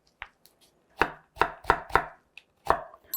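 Zucchini cut into thin julienne strips with a knife on a cutting board in a cooking class, giving a few sharp, close chops in an irregular rhythm with short pauses between them and no talking.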